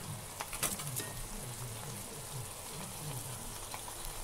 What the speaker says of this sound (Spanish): Escuchen, es el sonido de la música de la cocción